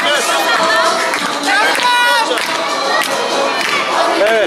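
Excited crowd of volleyball fans at a university championship final, a loud continuous roar of cheering and shouting voices close by, dense and sustained with overlapping chants.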